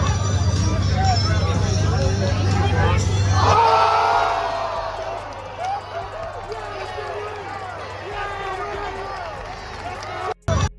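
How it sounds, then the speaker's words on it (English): A football training camp crowd reacts to a play with a swelling burst of cheering and excited shouts, then settles into a looser hubbub of chatter and scattered voices. "we actually have some footage of the crowd reacting to what happened on that play, the Moss by Jalen Lane."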